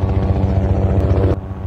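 A loud, close helicopter with a rapid, rhythmic rotor thump and a steady engine drone that continue throughout.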